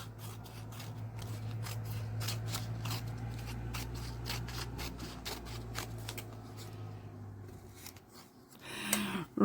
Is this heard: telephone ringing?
no